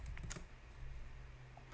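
Keyboard typing while entering a search term in a design app: a quick cluster of soft clicks near the start, then faint low hum and quiet room tone for the rest.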